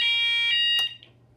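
A fire alarm blares a loud, steady electronic tone for most of the moment, then cuts off abruptly, leaving a faint low hum.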